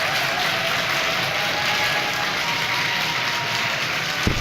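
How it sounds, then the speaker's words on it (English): Audience at a symposium clapping hands and stomping feet together, a dense, loud, continuous roar of applause with a low thumping undertone, no talking. "something's great, you don't just clap your hands, you also stomp your feet."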